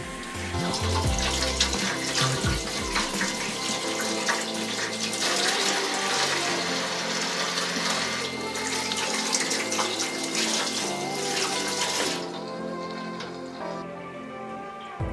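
Tap water runs steadily into a kitchen sink as dishes are rinsed after washing with soap nut liquid, a continuous splashing hiss with a few clinks early on and a quieter flow near the end.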